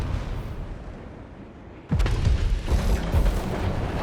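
Robots in War Robots: Frontiers launch missiles: a quiet rumble gives way to a sudden loud boom, then a run of heavy thumps and mechanical launch bursts that stay loud to the end.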